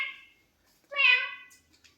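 A mother imitates a cat with her voice, giving two short, clear meow-like calls close by with a pause between them, in an otherwise quiet room.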